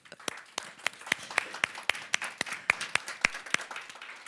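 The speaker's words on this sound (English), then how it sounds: "we should end with an applause" A smallish audience at an international tax partnership conference claps in a sparse, fairly regular rhythm, each clap distinct and close, with gaps between them and no talking.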